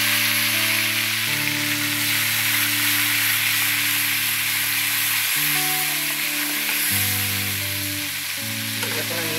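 Spices hiss and sizzle steadily in hot oil on a low flame for a red lyata fish curry, a continuous frying sound under steady background music.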